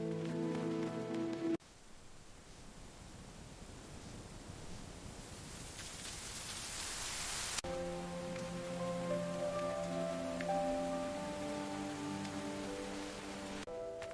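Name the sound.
heavy rain falling on a mountain trail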